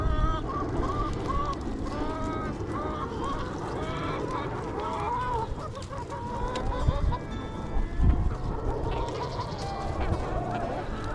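Backyard hens cluck and squawk together outdoors, with a busy mix of overlapping fowl calls and rustling close by that continues without pause.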